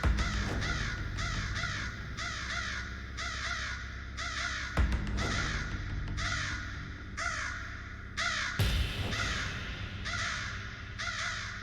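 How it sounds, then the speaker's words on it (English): Repeated crow caws in The Stanley Parable: Ultra Deluxe, a steady series of harsh calls in short bursts over a dense game ambience, with two sharp louder hits partway through. "I like the crow noises."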